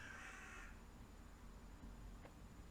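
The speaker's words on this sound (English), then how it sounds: "Shut up, crows!" Crows caw outside, one harsh call ringing out at the start over a quiet background, with a fainter caw following after a pause.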